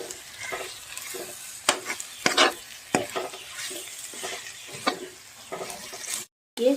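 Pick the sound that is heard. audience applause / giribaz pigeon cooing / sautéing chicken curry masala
sautéing chicken curry masala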